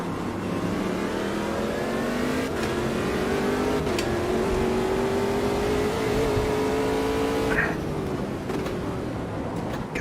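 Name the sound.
race car engines at Daytona in video game Automobilista 2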